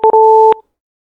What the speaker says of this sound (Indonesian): ditambah persamaan nada lain, maka jadi suaranya seperti ini